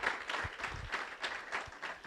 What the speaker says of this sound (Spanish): Denle un aplauso al Señor si usted lo cree